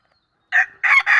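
A rooster crows once, close and loud, a short rising note followed by a longer drawn-out call, with nothing before it but silence.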